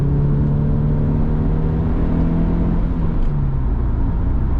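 A car engine drones steadily with a low rumble as the driver gives gas coming out of a curve, a continuous close-miked hum that holds level with no talk over it.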